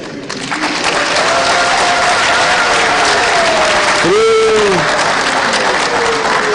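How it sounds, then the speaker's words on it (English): Loud, sustained applause fills a presidential inauguration ceremony in Malawi as the audience honours the justices of the High Court and Supreme Court, with a voice or tone rising briefly over the dense clapping midway through. "Please join me in applauding the justices of the High Court and the Supreme Court"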